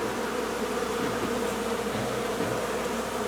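Honeybee foragers buzz and fan at the entrance of a hive box, forming a dense, steady, loud hum with no voices.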